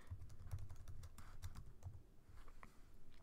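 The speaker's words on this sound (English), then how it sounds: "I'm going to go ahead and type in another statement." Keys clatter on a computer keyboard as a statement is typed into Java code, a quiet steady run of soft clicks with a few heavier keystrokes, no voices.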